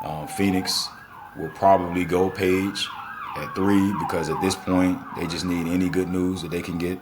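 Emergency vehicle sirens wail with rising and falling sweeps near a fire station, heard clearly but in the background beneath someone talking continuously.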